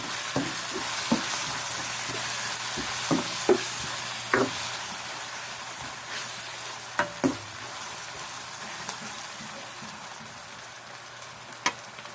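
Ground meat sautés in a pan for guisadong gulay, a steady sizzle and frying hiss punctuated by occasional scrapes and taps of a stirring spoon against the pan.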